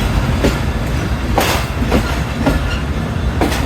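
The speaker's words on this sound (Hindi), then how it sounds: "3:20 पे हमारी ट्रेन अप्रोच कर रही है रायविंड जंक्शन रेलवे स्टेशन पर।" Karachi Express train nearing Raiwind Junction station, heard from on board as a loud steady rumble with rhythmic clickety-clack wheel beats over rail joints, about every half second to second.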